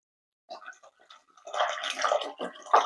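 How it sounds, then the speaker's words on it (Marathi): Water poured over raw peanuts in a bowl for washing, a short gentle splash that swells into a fuller sloshing pour after a brief quiet start. "आपल्याला इथे पाणी टाकायचं आहे"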